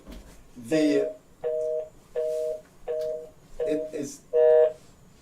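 Six evenly spaced electronic telephone line tones beep during a call fault on a talk radio show, each a steady two-pitch buzz of about half a second, loud and clear with short gaps between.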